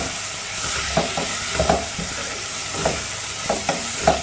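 Vegetables sizzle and crackle steadily in a hot tawa with chili powder and turmeric while a utensil stirs them, with soft scraping knocks every half second or so, close up.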